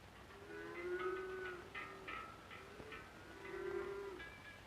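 Cattle lowing in Swiss mountain pastures, several drawn-out moos rising and falling in turn, moderately distant over a quiet outdoor background with no talk.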